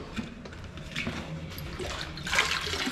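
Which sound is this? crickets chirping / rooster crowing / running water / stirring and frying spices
running water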